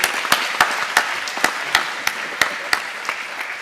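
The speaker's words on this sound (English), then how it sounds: "I think he even deserves another round of applause." An audience at a Senedd gathering applauds a speaker, a steady wash of many hands punctuated by sharp, louder nearby claps at a regular rhythm.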